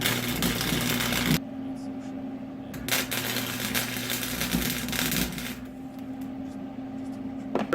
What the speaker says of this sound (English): Next, I'm going to try and weld these two pieces here together.